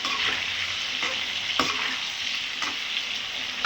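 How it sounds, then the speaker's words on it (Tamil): Brinjal sautéing in oil for an oily eggplant kuzhambu hisses with a steady close sizzle, broken by a few scraping stirs of a spoon in the pan, with no talking. "ஸோ இப்போ இதை எண்ணெயில் வதங்கிடுச்சு"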